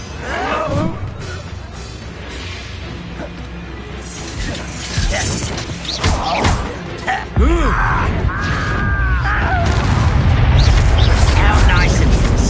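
Confringo blasting-spell explosions in the Hogwarts Legacy video game: several deep booms and crashing impacts over a rumbling battle, with character voices and groans mixed in.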